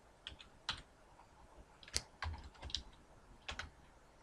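Letters typed on a computer keyboard: a quiet scatter of crisp, separate keystrokes at an uneven pace, with short pauses between clusters and no voices.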